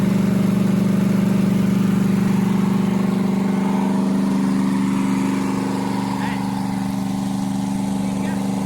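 A small-block 289 V8 running on its first start after a rebuild, a loud steady low rumble holding evenly throughout, close by, with faint voices underneath.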